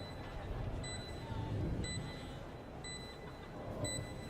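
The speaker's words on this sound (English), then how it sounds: "Hear that Spike forcing him forward." Valorant spike timer beeping during a Fnatic versus Wolves esports tournament match, a steady series of short high beeps repeating about once a second under crowd and game noise.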